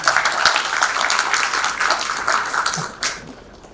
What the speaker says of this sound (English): A big, big round of applause for them.